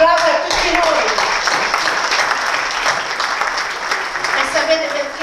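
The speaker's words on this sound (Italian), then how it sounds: "Un applauso a tutti noi!" An audience in a packed meeting hall applauds at a minority council gathering in Agropoli. The dense, sustained clapping runs for several seconds, loud and close, with voices mixed in.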